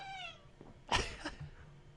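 A cat meows in a short, rising call near the microphone, followed by a brief burst of rustling and handling noise, indoors with no talking.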